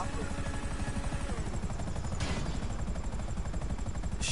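Helicopter rotor whirring steadily in GTA 5, loud and continuous, with a brief burst of gunfire-like noise partway through.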